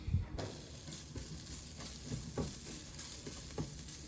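Pre-browned, already cooked ground meat warming in a pan, a soft, steady sizzle with faint crackles throughout, fairly quiet and without talk.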